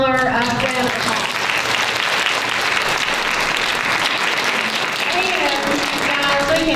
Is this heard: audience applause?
yes